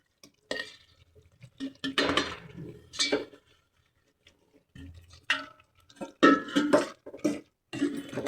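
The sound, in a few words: stirring grated coconut into sugar syrup in a pan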